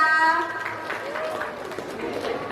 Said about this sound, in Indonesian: Tepuk tangannya dong buat teman kita.